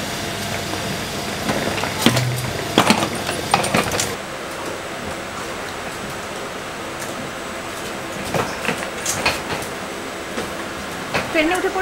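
Aboard the Haldibari Superfast Express passenger train from Kolkata to NJP: a steady carriage rumble with sharp metallic clanks and door-like bangs, plus scattered nearby voices.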